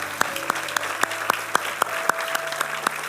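A church congregation claps for the Lord in a Spanish-language service, with sustained applause punctuated by steady, evenly spaced rhythmic claps over a sung or hummed tone.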